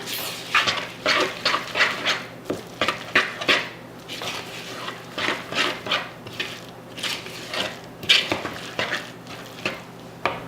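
Walnuts and coconut flakes are mixed in a bowl with a utensil, making a rhythmic run of scraping, rustling strokes and clinks against the bowl, close and fairly loud, with no talk.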